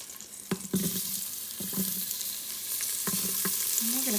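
Onions hitting a hot pot on the sear setting, giving a continuous bright sizzle broken by a few clinks and scrapes of stirring, close and alone.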